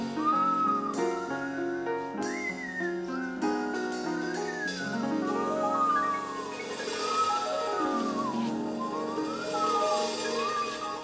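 Voices imitate whistling wind with rising and falling swooping tones over musical accompaniment, continuous and fairly close throughout.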